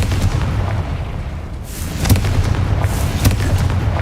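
Confringo fire-blast explosions from Hogwarts Legacy, a loud rumbling backdrop punctuated by two crisp bursts with hissing tails, one about midway and one near the end.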